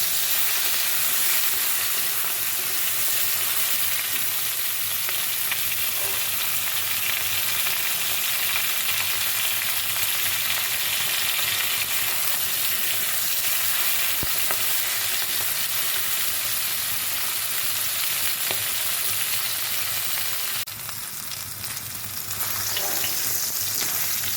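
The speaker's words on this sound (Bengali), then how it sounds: "ভালো করে নাড়াচাড়া করে ভেজে নেব, যেন পুড়ে না যায়" Taro stolons stir-frying in a pan, a loud, steady hissing sizzle that runs throughout, dipping briefly near the end before resuming, with faint occasional stirring.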